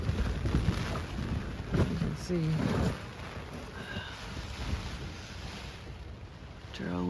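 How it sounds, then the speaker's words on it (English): Strong wind gusts buffet a tent during a storm, a continuous roaring rush with rising and falling gusts, while a voice speaks briefly. "the wind is pulling the pegs up in the tent. It is pretty violently windy out there."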